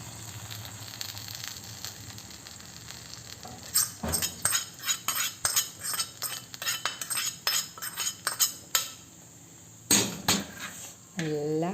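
Hot tempering for a sweet ripe mango curry sizzles, with a quick run of sharp utensil clinks and scrapes against a metal pan, close up, ending in a brief pouring sizzle.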